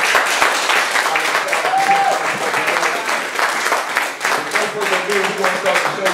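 A live studio audience at a gospel performance breaks into sustained applause, dense clapping mixed with crowd noise and faint voices, steady and fairly loud throughout.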